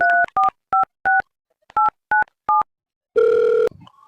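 Touch-tone telephone dialing: seven short, evenly paced keypad beeps in two bursts, followed by a brief louder ringback tone as the call connects.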